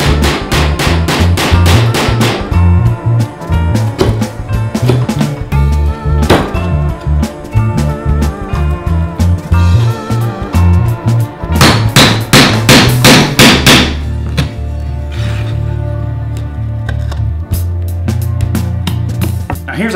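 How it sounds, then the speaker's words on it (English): Repeated sharp taps of a hollow mortising chisel struck to mark out the boundary of a clock-face inlay in wood, landing in irregular bursts of close, loud knocks. "by using a square and a hollow mortising chisel, I'm just going to tap out the boundary of the inlay"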